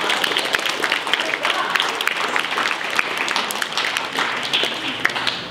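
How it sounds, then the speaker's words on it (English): An audience at a junior honor society induction ceremony gives a round of applause, a continuous close wash of clapping at a steady level throughout, with possible voices faintly mixed in. "how about a great big round of applause?"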